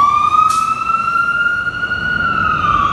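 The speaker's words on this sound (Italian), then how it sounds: "passa ovviamente chi deve passare, il camion dei pompieri" A fire truck siren wails loud and close as the engine passes through an Italian street, a sustained rising and falling tone with a brief burst of noise near the start.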